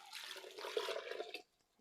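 Water pours into an Instant Pot for plant-based spaghetti, four and a quarter cups poured in one quiet, short splashing run that stops abruptly.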